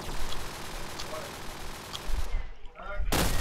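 Gunfire in a competitive shooter video game, a rapid burst of shots followed by a brief lull and another loud blast, with talk underneath.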